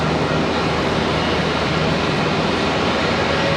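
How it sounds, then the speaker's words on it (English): American Airlines airliner in AirCal livery taking off at Charlotte Douglas International, a loud, broad, continuous jet engine roar that stays steady and close for the whole stretch. "American Airlines 1510 at AirCal livery off to Nashville, Tennessee."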